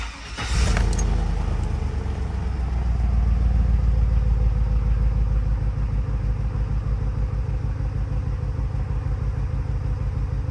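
A 2001 Chevrolet Tahoe with a Vortec V8 cranks briefly, catches and settles into a steady, loud, close idle whose low rumble holds evenly for about ten seconds.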